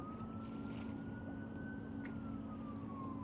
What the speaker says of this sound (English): I hear another ambulance. It is like every day here.